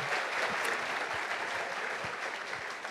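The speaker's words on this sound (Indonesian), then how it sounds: "Tepuk tangan untuk kita semua." An indoor audience at a university event claps together in a dense, even round of applause, steady and fairly distant, with no talk over it.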